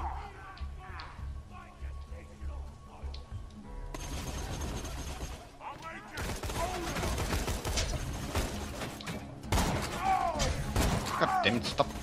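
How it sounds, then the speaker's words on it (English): Borderlands 2 co-op gunfight with rapid bursts of automatic gunfire and mechanical clatter, loud bursts in the second half, with game sounds and chatter mixed in. "God damn it, stop shooting at me, you ass."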